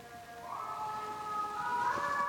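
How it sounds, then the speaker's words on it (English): An emergency vehicle siren passes at a distance, its wailing tone sweeping and rising over a soft background rumble, fairly faint and alone without talking. "There's the siren passing me."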